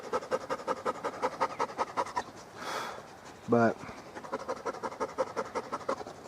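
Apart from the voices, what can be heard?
dogs panting under the table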